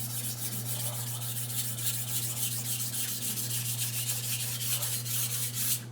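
Knife blade being sharpened on a whetstone, a steady, close rasping scrape in repeated strokes over a constant low electrical hum, no voices.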